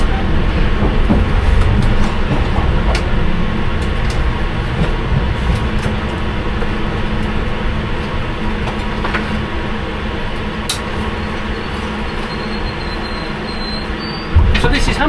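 A London Underground Piccadilly Line train runs along the track, heard from the rear cab: loud continuous rumble with rattling, faint wheel squeals and clicks, and a sudden surge near the end.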